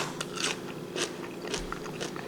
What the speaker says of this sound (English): chewing off camera, but it's crunchy.